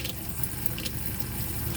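Water runs steadily from an RV kitchen faucet, a close, continuous broadband rush that stays even for the whole stretch with no talking.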